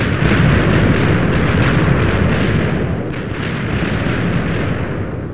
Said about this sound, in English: So I think the water is absorbing the TNT explosion.